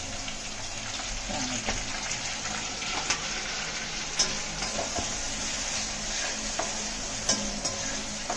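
Tomato tipped into a hot pan and stirred while it fries for a Konkani-style chicken vade meal, a steady close sizzle with scattered scraping spoon clicks throughout.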